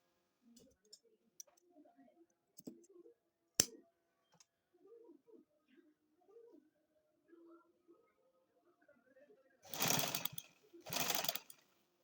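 A sewing machine stitching lace onto a tulip shalwar, two short bursts of rapid whirring stitching near the end, following quiet handling clicks and faint talk.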